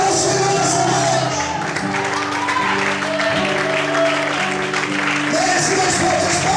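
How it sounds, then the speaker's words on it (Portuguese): A church congregation applauds steadily and loudly through the whole stretch, with cheers and shouts rising over dense clapping and an organ or keyboard sustaining chords underneath. "Merece mais fortes palmas ao Senhor."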